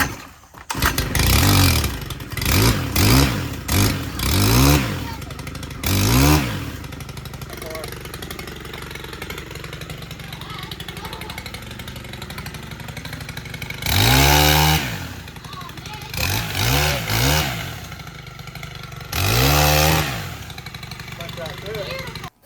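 Chainsaw pulled to start with repeated short rising engine bursts, then a rough idle, followed by several loud revs to full throttle close by, a voice speaking in between.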